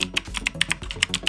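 Mechanical computer keyboard being typed on, a quick steady run of crisp clacking keystrokes, close and fairly quiet, with no voices.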